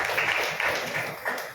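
A church congregation claps together in a steady rhythm for a second or two, a dense wash of many hands filling the room.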